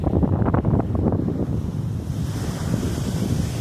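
Sea wind and breaking waves at Kattankudy beach, a steady close roar of surf with gusty wind noise buffeting the microphone throughout, no voices.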